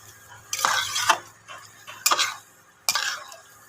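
Potato curry (Kashmiri aloo dum) with cashew, raisin and poppy-seed paste is stirred in a pan: three separate bursts of scraping and clinking of a spoon against metal, close by, with quiet pauses between them.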